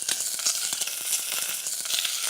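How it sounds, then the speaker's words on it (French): Chicken wings frying in smoking-hot oil in a pan give a dense, bright crackling sizzle with rapid pops, close and continuous. "là, ça fume, on est prêt, on peut mettre les ailerons. Et on entend."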